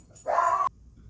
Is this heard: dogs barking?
yes